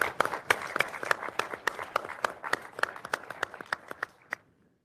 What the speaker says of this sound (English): How about a big round of applause for our team?